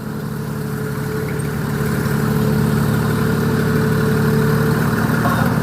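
A mini road roller runs steadily while compacting fresh asphalt on a road repair job, its loud, continuous mid-pitched engine drone holding close and even throughout with no voices.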